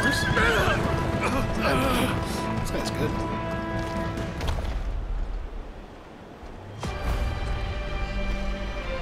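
Horse whinnying and hooves clip-clopping in the video game Wo Long: Fallen Dynasty, loud and busy over layered game sounds, with a brief lull before the galloping noise returns; someone talks over part of it.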